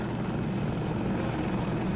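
A helicopter flies in a multiplayer military shooter game, its steady rotor chop and engine drone continuous and fairly loud throughout.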